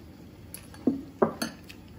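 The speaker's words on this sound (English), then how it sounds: "Mix that sriracha in." A spoon scrapes and clinks against a dish while sriracha hot sauce is stirred into food, giving a few sharp separate knocks and scrapes over a quiet room with no talking.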